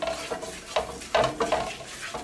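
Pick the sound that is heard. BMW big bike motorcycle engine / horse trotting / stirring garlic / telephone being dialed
stirring garlic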